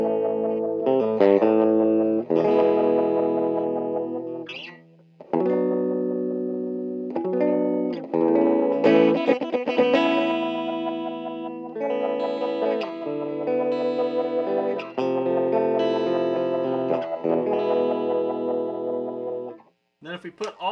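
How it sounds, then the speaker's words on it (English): Electric guitar played through the built-in wah setting of a 1970s Kay/Univox effector Les Paul, a run of strummed and picked phrases with a swept, vowel-like filtered tone, pausing briefly between bursts. "you get to the wah setting"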